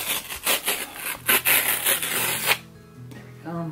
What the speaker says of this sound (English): if you gently tear down the middle, the CD will be inside